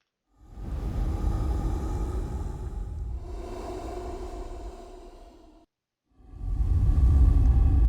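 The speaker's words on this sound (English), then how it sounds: "which is just me breathing." Human breathing pitched far down into a monster layer: two long, low, rough exhalation-like rumbles, the first lasting about five seconds and slowly fading, then a short gap before a louder second surge.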